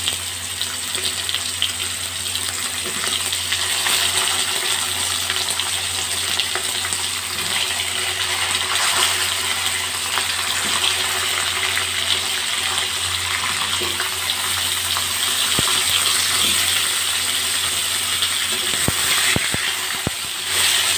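Chunks of potato and fairly large-cut pumpkin fry in a pan with oil for a curry with Malabar spinach, eggplant and ridge gourd, giving a steady, close, continuous sizzle with faint crackles and a few clatters near the end, no talking.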